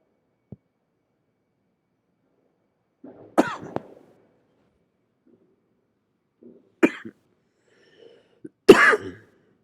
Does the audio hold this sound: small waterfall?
no